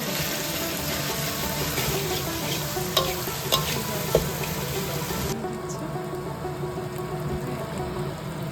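Onion, ginger paste and tomato masala fry steadily in a pan for a Bengali rui fish curry, giving a dense continuous sizzle with a few sharp stirring knocks near the middle; the high hiss dulls partway through as the mixture settles.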